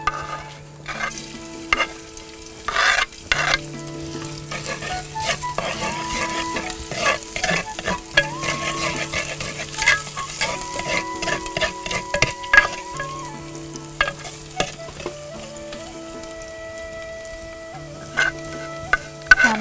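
Sinhala tempering frying in a pan with steady stirring, a continuous sizzle broken by repeated scraping strokes across the pan; music plays underneath throughout.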